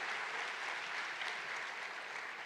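Audience clapping at an athletics event night at the Lied, a dense, steady wash of many hands throughout, fairly distant and even, with no talk.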